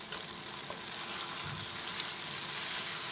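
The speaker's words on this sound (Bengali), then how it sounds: "শুধু গোটা জিরে দেওয়ার পর আমি কেটে রাখা পেঁয়াজগুলো এর উপর দিয়ে দিচ্ছি" Chopped onions drop into hot oil with whole cumin seeds for a pangas fish curry, giving a steady, close, even sizzle with a brief louder crackle as they land.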